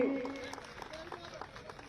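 A crowd at a public rally in Saharanpur applauds to welcome Piyush Goyal, a faint, distant patter of clapping that trails off after a louder start, with a voice speaking over it.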